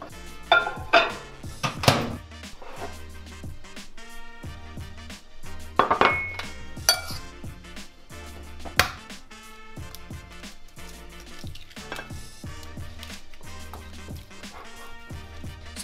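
Fathead keto dough of melted cheese, almond butter and egg being mixed in a bowl, with repeated clanks and scrapes of a utensil against the bowl, several louder knocks standing out from a steady rattle.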